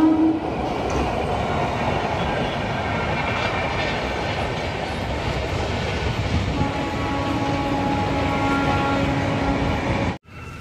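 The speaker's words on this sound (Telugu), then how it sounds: "ఇదైతే ద్వారపూడి రైల్వే స్టేషన్ అన్నమాట." A train at Dwarapudi railway station rolls past loudly and continuously with a rumbling clatter of wagons, and a brief horn sounds near the start before the noise cuts off abruptly.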